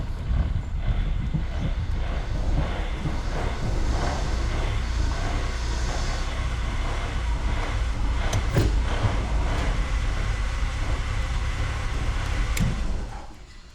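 A 1996 Mercury Cougar XR7 that has been sitting for years, still dumping gas, pulls back into a garage with a loud, steady engine rumble that cuts off near the end.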